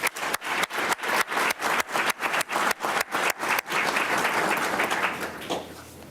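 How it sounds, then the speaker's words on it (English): Audience applause at a police promotion ceremony, opening with rhythmic unison claps for several seconds before breaking into steady, dense clapping that gradually thins out. "Let's give her another round of applause."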